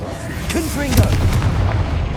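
A Confringo fire spell explodes in a Harry Potter video game, one short booming blast with a crackling tail, under a brief spoken voice.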